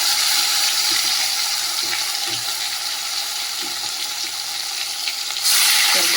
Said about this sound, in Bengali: এবারে মাছগুলো দিয়ে দিয়ে আস্তে আস্তে একদম গ্যাসটা কমিয়ে কমিয়ে ভাজতে হবে